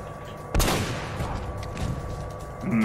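Gunfire in the video game Uncharted: Drake's Fortune: one loud, sharp shot bursts out near the start and trails off into a reverberant tail over steady game ambience.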